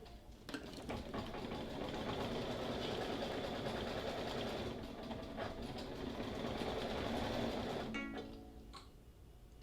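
A sewing machine stitches steadily at a rapid, even rhythm for about eight seconds, then slows and stops with a few clicks near the end. It is moderately quiet and nobody talks.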